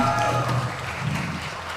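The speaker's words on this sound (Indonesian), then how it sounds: "Tepuk tangan buat Hezekiel." Audience applause at a youth Christmas worship celebration, a steady broadband patter of clapping filling the short stretch at moderate, even loudness, with no talk over it.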